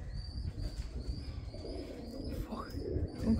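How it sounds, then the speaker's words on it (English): Pigeons coo in the roof space of an old bromine plant, a low, steady murmur of calls close by with faint chirps and a little wing movement mixed in, and no one speaking. "We've got pigeon chicks"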